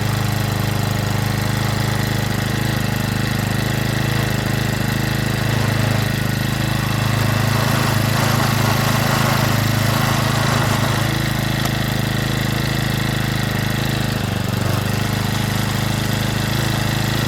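A Stihl FS65 brush cutter's small two-stroke engine runs continuously while warming up, a loud, steady idle with a slight rough wobble in its drone, close to the listener and alone for the whole stretch.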